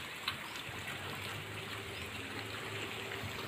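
Heavy monsoon rain pours down a village lane, water collecting in the street near a parked tractor, heard as a steady, even hiss of falling and running water, faint and continuous with no talk.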